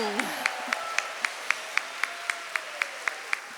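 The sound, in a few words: audience applauding at a church event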